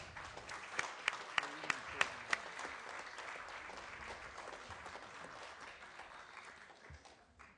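Applause rises from an audience at a Holocaust remembrance event, honoring a guest's son in the room. A few sharp claps stand out early before settling into a steady, moderately distant wash that gradually fades.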